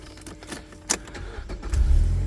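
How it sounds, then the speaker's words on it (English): Mazda MX-5 2.0i Powershift being started, a few clicks and a short crank, then the engine catching and settling into a low, rising idle rumble close by. "Now, I would advise starting the engine."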